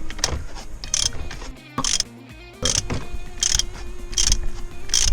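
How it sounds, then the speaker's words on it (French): Ratchet wrench loosening the alloy oil drain plug on a Suzuki GSF 600 Bandit motorcycle during an oil change: a series of sharp, close ratcheting bursts, about one per second, over mechanical background noise. "Donc je prends ma pince à cliquer et vous allez voir, ça va super vite"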